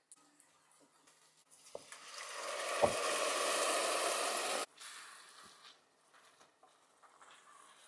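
Aromatics and spices for vegan spaghetti sauce frying in a pan, with a bright hissing sizzle that swells for a few seconds and then cuts off, framed by light clinks and scrapes of utensils.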